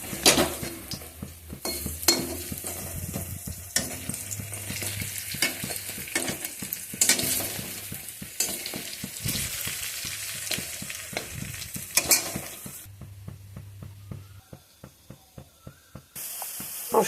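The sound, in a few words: chopped tomato frying with spices in a pan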